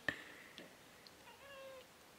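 A female cat meows on a film set during a behind-the-scenes shoot: a sharp chirp, then a few quiet, drawn-out meows that rise and fall, faint against a hushed room.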